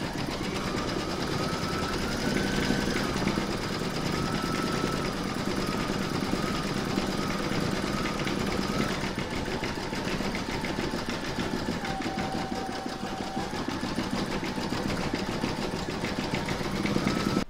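An embroidery machine stitching a section of an in-the-hoop mandala placemat, running as a steady, even mechanical whir with a buzzing needle rhythm and small shifts in pitch, close and continuous with no talking.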